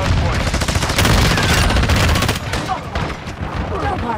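Rapid video-game gunfire in a multiplayer objective match, dense overlapping bursts of automatic weapons and heavy shots, loud and close throughout, with voices calling out over the shooting.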